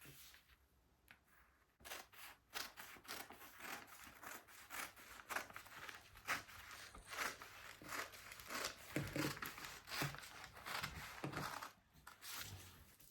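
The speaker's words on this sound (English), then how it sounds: "Now we are going to cut it out. You can see it is very simple to cut." Scissors snip through fabric to cut out an off-shoulder sleeve, a close, quiet series of repeated crisp cuts in an irregular rhythm, with no one talking.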